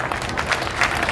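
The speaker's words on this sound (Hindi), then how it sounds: "तालियां कमजोर हैं आपकी" An audience at a comedy performance claps in a brief, dense patter of applause.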